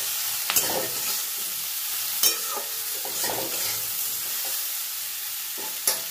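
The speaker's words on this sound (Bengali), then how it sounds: "এবার সব সবজিগুলো আমি একটু নাড়াচাড়া করে নেব।" Vegetables seasoned with salt and turmeric being stirred in a pan, with a steady broadband sizzle and a few sharp scrapes and clinks of the spoon against the pan. No one speaks.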